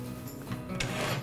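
A wooden tambour door slides along a cabinet's entry groove, giving a short, soft wooden rubbing and clatter up close, quiet and brief with no voices.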